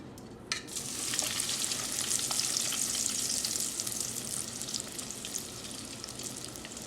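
Mozzarella sticks deep frying in hot oil in a fryer basket, a dense continuous bubbling sizzle that rises after a short clink at the start and holds steady, close and fairly loud.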